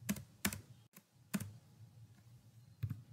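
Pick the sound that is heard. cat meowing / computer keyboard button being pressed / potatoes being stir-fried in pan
computer keyboard button being pressed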